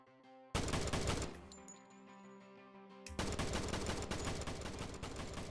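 Rapid gunfire from an automatic weapon in the video game Blackout, shots aimed into a fence, comes in two loud sustained bursts with a brief quieter gap of background game music between them.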